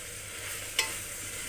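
Tomatoes and ginger-garlic paste fry in a hot tempering for a one-pot spiced rice dish, a soft steady sizzle with one brief sharp stir click midway, no voices.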